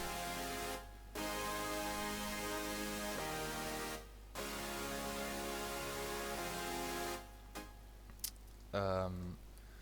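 Thick, sustained future bass synthesizer chords, four layers stacked, drone loudly, cut by a few short pauses, with a brief buzzy rising flourish near the end.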